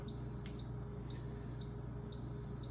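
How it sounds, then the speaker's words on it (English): A pressure cooker gives a series of steady, high-pitched electronic beeps, three long tones spaced about a second apart over a low background hum. "That beeping means it's ready to go."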